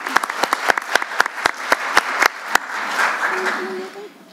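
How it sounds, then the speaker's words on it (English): Audience at a board of education meeting applauding students: a few distinct, evenly spaced claps close by, then a softer crowd wash of clapping that fades, with a brief voice near the end. "please give our students one big round of applause"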